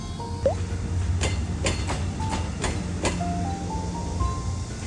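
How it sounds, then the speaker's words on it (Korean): A Mugunghwa passenger train rolls slowly into Cheongso Station on the Janghang Line, South Korea, with a low rumble and a series of rhythmic wheel clacks, accompanied by faint squeals and tones. "잠시 뒤 익산으로 가는 무궁화호 열차가 천천히 청소역 승강장에 들어옵니다."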